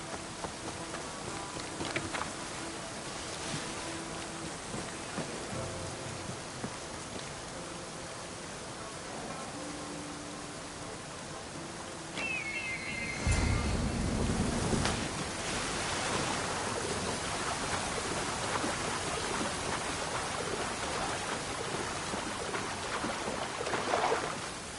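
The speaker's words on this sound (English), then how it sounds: "This is the waterfall." A waterfall in the Odyssey video game rushes in a steady, broad wash of water noise that swells noticeably louder about halfway through and stays full to the end.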